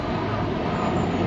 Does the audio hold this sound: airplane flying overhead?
yes